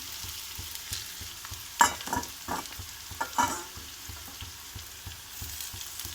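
Curry leaves dropped into hot oil for an egg curry sizzle in a pan, with a sharp crackling burst followed by scattered stirring scrapes and softer frying hiss.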